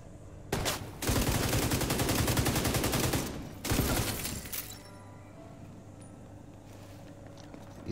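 Rapid bursts of gunfire from a shooter video game, The Division 2, a loud sustained volley followed by a second shorter burst, then fading to quieter background ambience.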